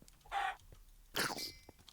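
A chicken clucks in Minecraft, played with the Enigmatica 2 Expert modpack. Two short, bright clucks separated by a brief pause, clear and close, with no talking over them.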